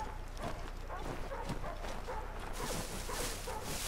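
Dogs bark and yip in quick bursts in the video game Assassin's Creed III, over a steady low hum and snowy wind-like hiss, moderately close, with no talking.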